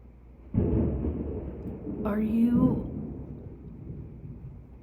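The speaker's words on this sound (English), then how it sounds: "Did y'all hear that thunder?" A low rumble of thunder rolls in during a hot, dark day before a storm, rising and lingering in the background, with a brief higher tone partway through.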